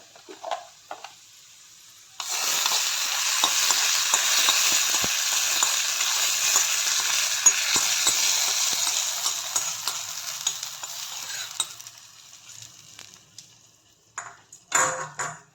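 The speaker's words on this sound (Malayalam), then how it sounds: "ഇനി നമുക്ക് കടുക് വറുത്തേനെ ഇതിലേക്ക് ഒഴിച്ചു കൊടുക്കുക" Hot oil with mustard seeds sizzles loudly after a sudden pour into ginger pachadi, a bright crackling hiss with tiny popping seeds that gradually fades; a faint clink or two at the edges.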